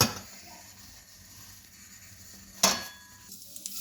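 Cumin seeds sizzle softly in a hot pan during bhindi preparation, with clinking of utensils and a sharper metallic stir or clatter partway through; no talking.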